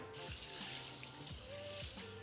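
Water runs steadily into a sink or pot, with soft sloshing as rice and lentils are swished and rinsed by hand.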